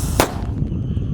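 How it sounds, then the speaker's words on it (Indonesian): A mercon teratetor firecracker goes off with a single sharp crack, loud and close, followed by a fading crackle and outdoor background noise. "Di sini ada mercon teratetor. Kita lihat guys, sudah menyala."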